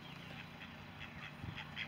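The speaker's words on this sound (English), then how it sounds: "Have a couple ducks here." A couple of farm ducks quack in a short, soft run of calls that grows a little louder near the end, set against steady low background noise.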